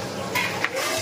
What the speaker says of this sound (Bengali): এখন রান্না বান্না চলছে, মাছ ভাজা হচ্ছে।